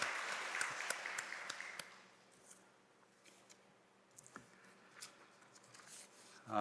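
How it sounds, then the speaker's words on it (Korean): A church congregation at a Sunday service claps for a newly married couple as flowers are presented, a brief burst of applause that fades within a couple of seconds into quiet room sound with scattered small noises. "우리 축하의 꽃다발 전달할 때 큰 박수로 축하해 주시기 바랍니다"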